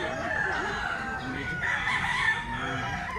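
A black hatch rooster, a gamecock, crows loudly and close, one long drawn-out call filling the moment, with faint background clucking and no talk.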